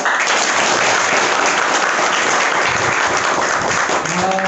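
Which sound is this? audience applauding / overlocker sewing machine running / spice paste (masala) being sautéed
audience applauding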